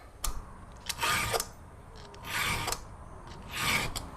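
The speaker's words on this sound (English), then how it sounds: "got the chain sharpened up" A chainsaw chain is sharpened by hand with a round file, making three or four distinct rasping strokes in a slow rhythm, close and fairly loud, with a few light metallic clicks between them.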